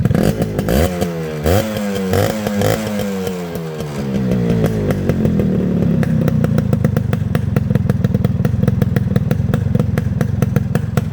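A fully rebuilt Yamaha RX 100 two-stroke motorcycle engine revs up and down a few times, then settles into a loud, rapid, close idle that runs steadily to the end.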